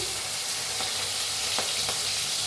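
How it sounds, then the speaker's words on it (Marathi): Mustard seeds, cumin, crushed garlic and crushed chili crackle in hot oil for a spicy brinjal dish, a dense continuous sizzle close up with a few sharp pops, no talking. "तेल चांगलं तापलं त्याच्यात टाकूया मोहरी चमच्यावर जिरं चेचलेला लसूण चेचलेली मिरची"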